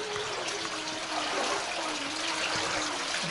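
Water flows steadily through a small stone channel at a river beach in Alte, Loulé, Portugal, a constant close trickling rush with no voices over it.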